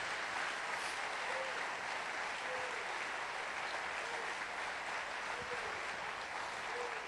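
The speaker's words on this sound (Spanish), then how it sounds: "¿Por qué no le das un aplauso bien fuerte al Señor?" A church congregation applauding loudly and continuously, a dense even wash of many hands clapping that fills the room throughout.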